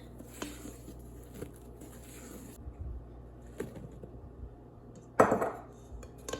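A spatula mixes chocolate macaron batter in a bowl, with soft scraping and occasional light taps against the bowl bottom. One sharper, louder scrape or clatter comes near the end. The sounds are mostly quiet and close, with no talking.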